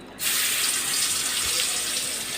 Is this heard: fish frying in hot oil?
yes